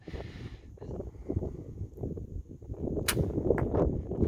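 A compound bow fires an arrow at a target 30 yards away during sighting-in, a single sharp snap near the end over steady outdoor wind rumble.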